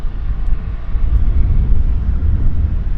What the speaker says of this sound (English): There's the caravan taxiing to the FedEx facility